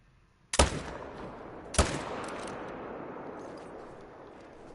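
Two loud rifle shots ring out in theHunter: Call of the Wild while stalking game, each a sharp crack followed by a long, rolling echo that fades slowly across open terrain.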